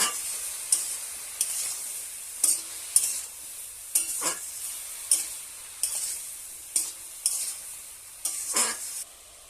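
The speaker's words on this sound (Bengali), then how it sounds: "ভাজা ভাজা করে নেব।" Small fish, potato, eggplant and onion with salt and turmeric sizzle steadily in a pan on a village stove, while a utensil stirs them in regular scraping strokes every second or so, close up and without speech.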